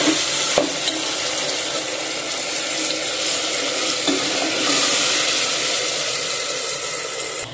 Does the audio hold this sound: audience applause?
no